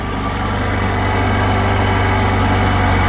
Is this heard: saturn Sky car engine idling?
yes